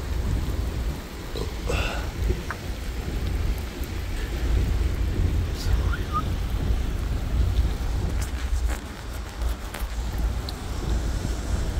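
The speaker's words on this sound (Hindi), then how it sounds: "अभी बारिश फुल हो चुकी है" Steady heavy rain pours down in Medina in a continuous dense hiss, with a low rumble underneath and no talking.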